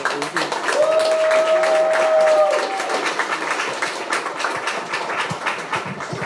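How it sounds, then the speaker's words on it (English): Applause and clapping from a lecture audience, steady and fairly loud throughout, with voices and crowd noise mixed in. "one more round of applause"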